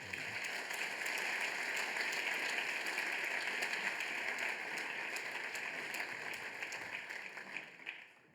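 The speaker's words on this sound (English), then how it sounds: "stand up so that we can give a special applause to you" A conference audience applauds students at a business event, steady dense clapping from a sizable crowd that holds for several seconds and then fades away.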